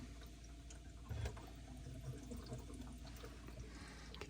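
Water runs steadily into an under-sink filter tank at low volume, a soft continuous filling rush with a slight surge early on.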